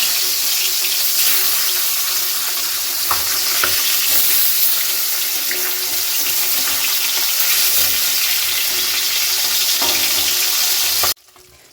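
Fish frying in hot oil in a home kitchen pan, a loud continuous sizzle and crackle with a few sharper spatters, cutting off abruptly near the end, with no talking.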